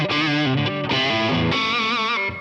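Electric guitar, a Strat, played through a drive pedal into a Mesa Boogie Fillmore 50 amp, giving a loud, continuous, moderately overdriven tone with sustained notes and chord changes, not heavily compressed.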